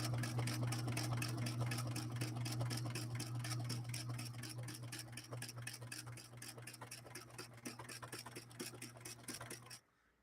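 A Singer 6233 sewing machine stitching through heavy material runs a rapid, even mechanical clatter with a low motor hum underneath, slowing slightly before it stops abruptly near the end.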